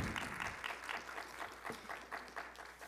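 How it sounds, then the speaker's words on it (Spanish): Faint applause from an audience at a law students' conference, an even patter of many hands clapping heard from a distance for a few seconds without talk. "Aplausos, por favor."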